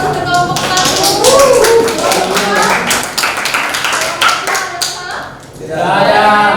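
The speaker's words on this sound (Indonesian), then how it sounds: "berikan aplaus untuk kelompok 1" A classroom of students applauds a group after its presentation, a dense burst of clapping hands close by that swells, dips briefly and rises again, with voices mixed in.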